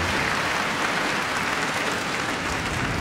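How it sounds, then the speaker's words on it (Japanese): An arena crowd at a badminton men's doubles match at the 2018 Japan Open applauds loudly, a dense and steady roar of clapping with no voices over it. "場内からも大きな拍手"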